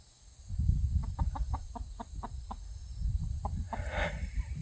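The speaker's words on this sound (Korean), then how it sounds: "꼬물이, 꼬꼬들 괴롭히면 안 돼" A rapid series of clucks from nearby chickens, rhythmic and evenly spaced, over a low rumbling outdoor background.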